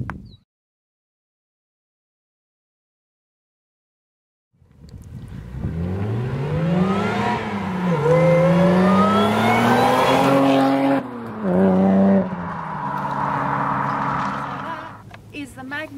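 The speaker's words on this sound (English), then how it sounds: "So let's take a video of it driving." Supercharged 3.8L Mitsubishi Magna driving off after a fuel filter fault was fixed, engine pulling up through the revs with supercharger whine, a brief lift then renewed acceleration, close and loud after several seconds of near silence, with talk over it.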